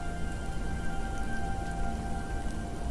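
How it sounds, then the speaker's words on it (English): Steady rain falls as an audiobook sound effect, an even, continuous hiss of drops with a faint low rumble underneath, moderately loud, with no voice over it. "the cold drizzle was not so slowly turning into rain"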